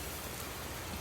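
Steady rain pattering on a surface, a dense even hiss with soft drop impacts, continuous and moderately close, no voices.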